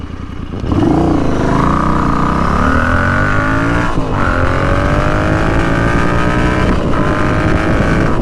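A Royal Enfield Continental GT 650 twin-cylinder motorcycle accelerating hard through the gears, loud and close, engine note climbing steadily with a brief dip at a gear change, then pulling on strongly.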